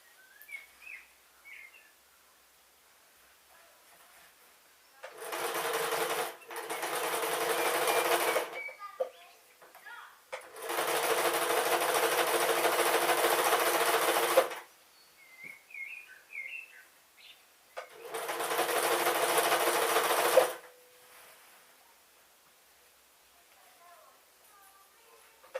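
A sewing machine sews a pink dress in three bursts of fast whirring, each a few seconds long and separated by pauses, with faint bird chirps in the quiet gaps.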